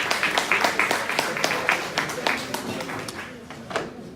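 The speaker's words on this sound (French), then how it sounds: "Là aussi, vous pouvez l'applaudir, elle est là." Audience at a seniors' party in Remelfing, dense clapping with many hands overlapping into steady applause that gradually thins and fades over a few seconds, fairly close and lively.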